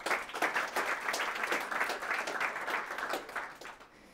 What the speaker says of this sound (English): So let's welcome her with our applause and let her do the thing.